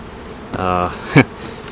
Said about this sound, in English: the bees are trying to get away from this hive